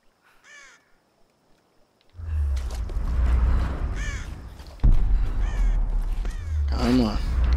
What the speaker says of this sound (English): See that bird.